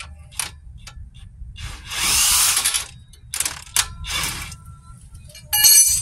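An impact gun loosens and backs out a front shock absorber bolt on a 2010 Nissan Cube, with several loud buzzing bursts of a second or so between short pauses and metallic clinks.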